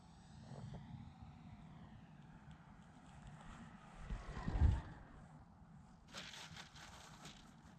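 An Eclipson Go 1 Wolf 3D printed electric glider whines faintly through the air, its small propeller motor rising and falling in pitch as it passes, with a brief rustling thump near the middle.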